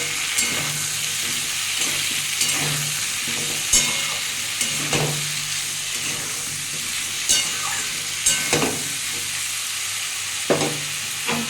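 Katla fish curry with potato, drumsticks and pointed gourd frying in a pan after salt is added, a steady close sizzle broken by repeated scraping stirs of a spatula, with no talking.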